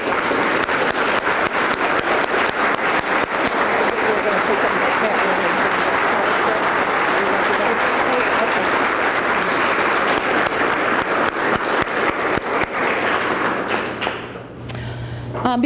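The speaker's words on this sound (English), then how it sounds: "give them a round of applause" A banquet hall audience gives a long, loud round of applause for Girl Scout Silver and Gold Award recipients, dense steady clapping with some thumps that fades near the end.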